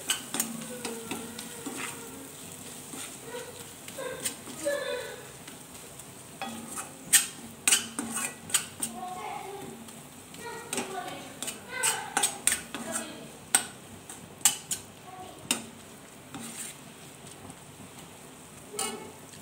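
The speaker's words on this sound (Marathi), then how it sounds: "आता हे मसाले आपल्याला छान असे कांदा टोमॅटोमध्ये परतवून घ्यायचे आहेत" Biryani masala being stirred and fried with onion and tomato in a pan for an egg rice dish, with repeated scraping clinks of a spoon against the pot and a faint sizzle underneath, no talking.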